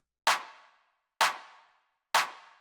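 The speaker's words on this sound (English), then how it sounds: "So the next thing that we have here is the clap," A layered electronic clap sample for a techno track fires three times at an even, slow pace, each hit a sharp, bright, close snap with a short noisy tail, alone with silence between.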